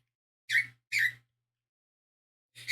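A pet bird gives three short, sharp squeaks, two in quick succession and a third after a pause, with silence in between.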